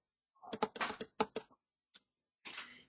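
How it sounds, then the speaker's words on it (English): Calculator keys are pressed in a quick run of sharp, close plastic clicks, then a pause, a single tap and a final short burst, with no talk. "And now type it in your calculator."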